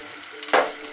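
Garlic dropped into hot olive oil in a pan while making spaghetti with anchovies, giving a sudden close sizzling burst over a steady background hiss.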